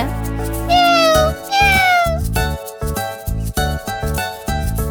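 A cartoon kitten in a children's animated story gives two rising, high-pitched meows over a bouncy, rhythmic music score that continues steadily afterward.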